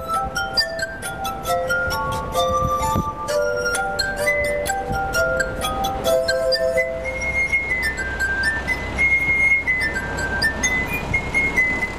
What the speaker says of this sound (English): There are only about 3 or 4 of us in the world that play it on glass.